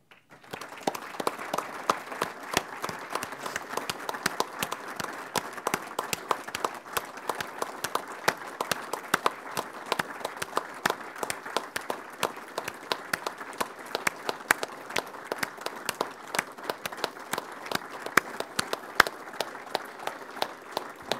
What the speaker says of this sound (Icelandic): klapp í hálfa mínútu